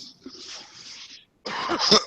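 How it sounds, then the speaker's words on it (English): A person nearby gives a breathy, drawn-out cough, then after a short pause a harsher, louder cough bursts out. "Excuse me for the coughing."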